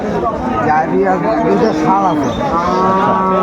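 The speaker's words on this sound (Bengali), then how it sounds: "আপনার গরুগুলা সুন্দরভাবে দেখি গাভী এবং বাছুর" Loud, close Sahiwal cows and calves moo over one another on a farm, several animals calling in drawn-out lowing sounds.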